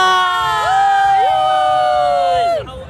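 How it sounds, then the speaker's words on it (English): A loud crowd at a Mumbai marathon cheers and whoops in long sustained rising and falling cries that hold steady, then cut off abruptly near the end. "We have got some people here cheering from Mumbai."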